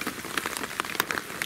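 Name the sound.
rain falling outside old tunnel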